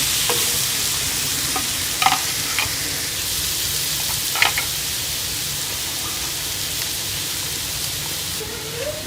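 Chopped tomatoes and green chillies stirred into beef tawa boti masala frying in a pan, a steady loud sizzle with a few sharp scraping clinks of the spoon.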